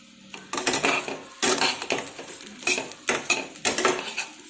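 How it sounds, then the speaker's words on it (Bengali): Rice is tipped into hot ghee with whole cinnamon, cardamom, bay leaf and dried chili for mutton pulao, then stirred in a pot, giving bursts of metallic scraping and clanking with short pauses between them. "চালটা দিয়ে দিচ্ছি।"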